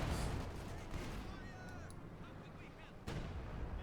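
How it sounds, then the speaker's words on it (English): Heavy mortar barrages thud across a Company of Heroes 2 battlefield in a World War II match, low rumbling blasts with a fresh impact near the end, under a caster's talk. "More heavy mortar fire out there."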